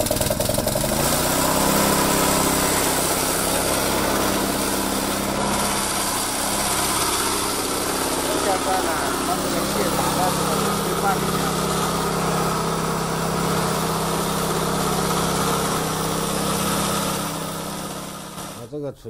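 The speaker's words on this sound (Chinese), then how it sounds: "那我来启动这个汽油发动机，代替那个风力压缩机。" A gasoline engine drives an air compressor that fills a storage tank for a homemade air-powered generator. It runs loud and steady as a close, continuous drone with a constant hum and rattle, and it fades slightly at the end.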